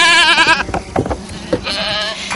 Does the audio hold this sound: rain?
no